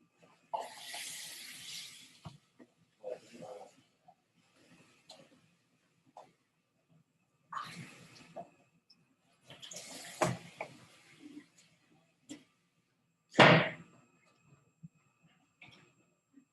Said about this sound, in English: just fill it with some tap water